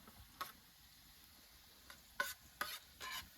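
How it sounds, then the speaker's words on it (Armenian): Fried onions stirred in a pan at an outdoor forest campsite, a quiet background with a few brief scraping clinks of a utensil, mostly clustered toward the end. "Արդեն սոխը տապակվել է։ Հիմա կխառնենք"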